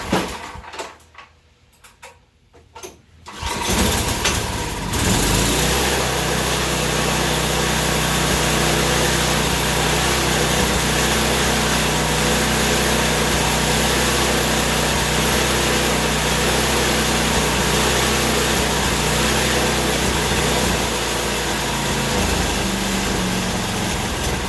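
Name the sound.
Tecumseh snowblower engine running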